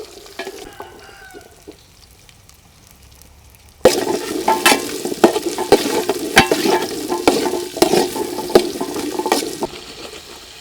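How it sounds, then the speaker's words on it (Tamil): Onions dropped into hot oil for a South Indian chicken liver pepper fry, a sudden loud burst of sizzling after a quiet start, then continuous frying with scraping stirs and clanks close by. "எண்ணெய் காஞ்சிருச்சு. இப்போது வெங்காயத்தை சேர்த்துக்கலாம்."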